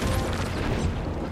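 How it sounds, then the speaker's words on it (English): A flashbang grenade detonating in a first-person shooter game: a short, dense, loud burst of noise that fills the whole moment with no break, heard alone. "Let's try what this flashbang does."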